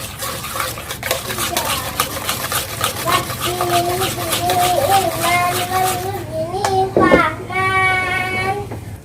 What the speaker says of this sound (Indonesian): Ini diaduk sampai rata